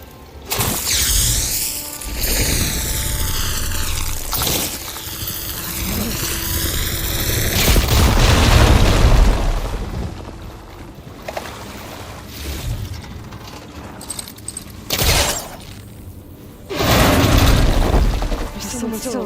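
A tunnel in Horizon Forbidden West blows up in a deep, rumbling boom that swells and then rolls on for several seconds beneath game music and a voice.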